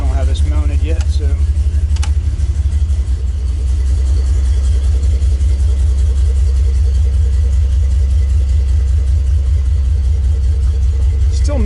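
An LS-swapped Jeep with one cylinder misfiring drives along, its engine making a loud, steady low rumble that fills the whole stretch with a slightly uneven, throbbing drone.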